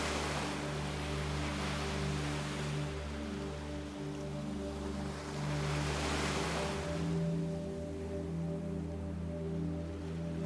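Ocean surf rolls in steady, broad washes of breaking waves, a continuous close roar that swells and recedes over a constant low hum, with no voices.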